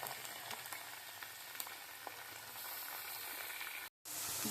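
Grated carrot sautés with fried dry fruits for halwa, giving a soft, even sizzle and crackle close by with faint stirring ticks, then a brief dropout and the frying picks up again.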